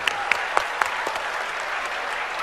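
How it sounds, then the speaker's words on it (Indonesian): A television debate studio audience breaks into dense, continuous applause, with a few sharper individual claps standing out near the start and the clapping holding steady to the end. "Tepuk tangan."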